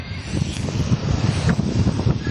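Strong wind and heavy sea waves on a rough day too stormy for fishing boats to head out, a steady low, rumbling roar with gusty buffeting against the microphone throughout.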